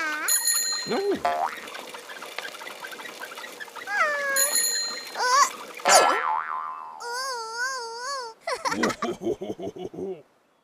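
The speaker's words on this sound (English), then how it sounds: "He rings his bell when he passes people on his bike" A bicycle bell rings a few times among bright cartoon-style effects, including a wobbling boing, with clear, ringing tones that fade quickly.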